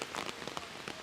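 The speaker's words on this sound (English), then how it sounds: "because of the rain, it is very wet" Steady rain falls on a surface during a wet day at Horse Guards Parade in London, a dense, even hiss of drops pattering close by with no voices.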